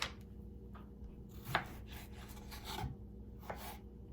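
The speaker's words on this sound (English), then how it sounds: "I'm gonna chop up just a little bit more cucumber" Quiet knife work on cucumber over a cutting board, a few scattered chops and scraping rubs spaced irregularly, close by with no talk.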